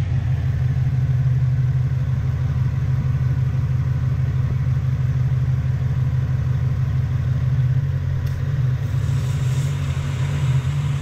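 A Toyota 1UZ-FE V8 engine in a pickup idles loudly and steadily with an air leak, a deep, even rumble holding a constant pace throughout with no voices.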